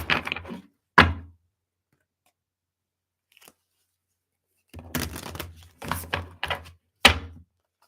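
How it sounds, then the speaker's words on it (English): Oracle cards being shuffled by hand in short bursts, a couple of brisk riffling flurries separated by a long quiet pause, close and fairly soft. "I'm going to shuffle a couple more times,"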